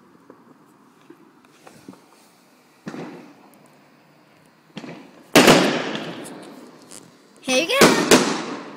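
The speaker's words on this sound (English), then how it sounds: "I can hear loads of fireworks going off, but I can't see them" Distant fireworks crack and boom in scattered bursts outdoors at night, faint pops giving way to louder rumbling blasts near the end, while a person speaks briefly.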